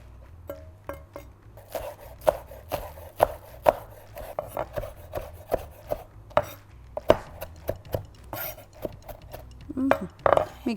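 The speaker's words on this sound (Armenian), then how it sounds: "մենք կտրատում ենք սոխը եւ մաղադանոսը" Knife chopping onion and parsley on a board, a rapid series of sharp close taps with uneven rhythm, with faint kitchen clatter between strokes.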